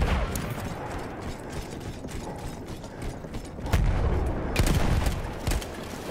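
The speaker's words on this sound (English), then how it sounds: "I see flashes out the window with gunfire" Rapid bursts of gunfire crackle over a dense, noisy Battlefield 1 game soundscape, with a few louder sharp shots near the end.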